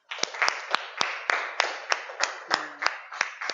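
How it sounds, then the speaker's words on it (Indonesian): A small group at a classroom lesson on dhikr claps in sharp, separate hand claps at a steady, slightly uneven rhythm, close and clear, with a brief low hum midway. "Nah, tepuk tangan buat Nizam."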